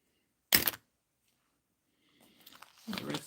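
Snips close on a length of yellow ribbon in one quick, crisp snap nearby. Quiet follows, then soft rustling and handling noises build toward the end.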